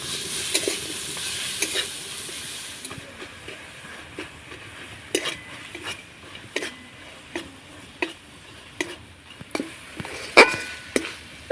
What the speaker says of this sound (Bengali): এবার আমি নাড়াচাড়া করে পুটটা তৈরি করে নেব